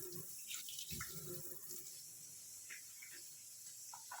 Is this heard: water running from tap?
yes